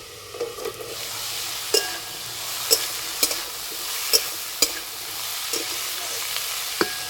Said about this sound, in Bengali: চাপাটা খুলে নেড়ে দেব।